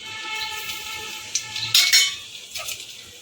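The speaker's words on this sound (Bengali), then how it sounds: "এর মধ্যে দিয়ে দেবো একটা শুকনো লঙ্কা আর কালো জিরে ফোড়ন" A dried red chilli and black cumin seeds fry in hot oil in a kitchen pan, a steady bright sizzle with a few sharp metal utensil clinks near the close.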